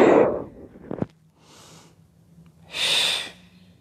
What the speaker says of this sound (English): it's essential that you blow your breath out, draws the belly down as you breathe out and breathe in